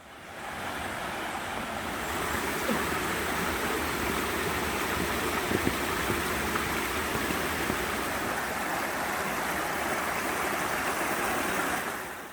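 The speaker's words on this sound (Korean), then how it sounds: "구룡사 계곡은 큰 폭포부터 작은 시냇물까지 모습도 참 다양합니다." A mountain valley stream and waterfall at Guryongsa in Wonju rush in a steady, dense roar of flowing water, close and continuous with no voices.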